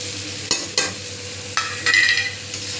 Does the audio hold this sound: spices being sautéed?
yes